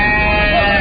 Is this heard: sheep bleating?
yes